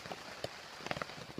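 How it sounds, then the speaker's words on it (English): Steady rain at night around a hammock campsite in early March, pattering on a tarp as a broad, even hiss with a few louder drops tapping through it, close and fairly quiet. "It's been raining since about 11 o'clock this morning"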